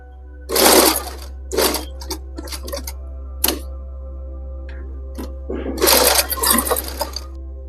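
A sewing machine stitches gota lace onto a chunni in several short bursts of rapid mechanical clatter, close and loud, separated by pauses over a steady low hum, with no talk.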